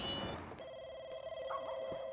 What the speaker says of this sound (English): We won't pick up that phone.